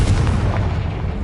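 A Confringo explosive spell going off in Hogwarts Legacy, a short, loud, booming blast with a dense rumble that holds steady to the end.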